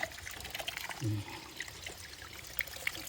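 Water trickles faintly and continuously from a natural spring outdoors, a soft, quiet dribble with occasional small splashes.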